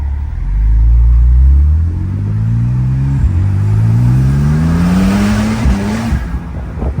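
A modified 2014 Porsche 911 Turbo S, roughly 700 horsepower, accelerating hard: a loud, close engine roar climbing steeply in pitch through successive gears, each shift marked by a brief dip before the note rises again.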